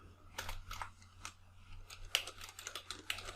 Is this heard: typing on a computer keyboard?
yes